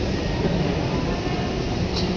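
Doha metro train interior with a steady low rumble and rolling rail noise, constant and fairly loud, with faint voices in the background.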